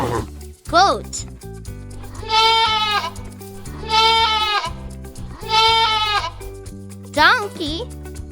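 A goat bleats in a series of wavering, harmonic calls, about four in a row, set over a bouncy children's nursery-rhyme backing track.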